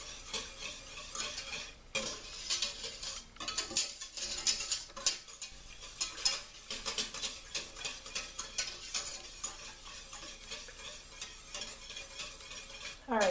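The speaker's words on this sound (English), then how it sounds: "So I'm just going to stir it here." A milk sauce for mac and cheese stirred in a pot, with quiet repeated scraping and clinks of a utensil over a soft bubbling sizzle, close and fairly faint, with no voices.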